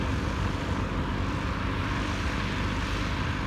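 A Cessna Citation jet climbs away after a late-afternoon takeoff, a continuous broad engine roar heard from a distance, steady and moderately loud with no voices.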